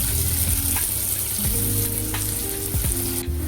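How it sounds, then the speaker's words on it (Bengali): Onions frying in oil in a kadai give a steady, loud sizzle throughout, with occasional stirring scrapes and no talk. "কড়াই একটু তেল দিয়ে একটু পেঁয়াজটাকে ভেজে নিচ্ছি।"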